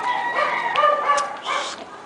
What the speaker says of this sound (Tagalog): Ayan, may isa pang manok.